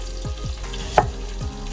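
Batches of lamb pieces brown in a pan for stew, giving a soft, steady sizzle with a few quiet clinks and one brief sharper knock, close by and with no talking.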